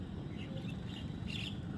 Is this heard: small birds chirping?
yes